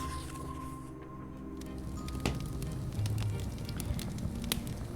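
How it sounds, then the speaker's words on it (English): Pages of poetry burn in a fireplace in a video game, giving a soft, steady crackle with scattered sharper pops and a faint hiss over low background hum. "The last of your sister's poetry burns away in the fireplace."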